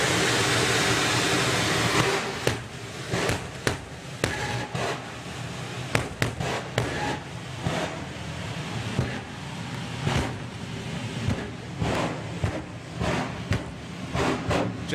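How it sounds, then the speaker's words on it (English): Two jet dragster cars sit side by side at a drag racing event, roaring with a dense, continuous jet blast punctuated by sharp cracking pops, loud and close throughout. "Jet cars barking at each other here."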